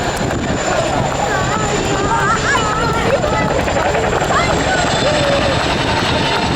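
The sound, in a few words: RAF Chinook helicopter flying at airshow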